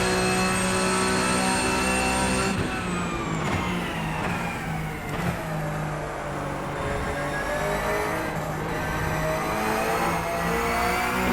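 A Porsche Cup race car screams around Road Atlanta in iRacing, its engine loud and close, holding high revs with rising and dipping pitch through gear changes and throttle lifts, unbroken for the whole stretch.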